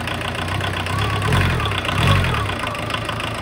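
A Volkswagen Rabbit diesel engine, restarted after sitting abandoned for about twelve years, idles steadily and close by, with a loud, even diesel clatter and slight swells in level, with no talking.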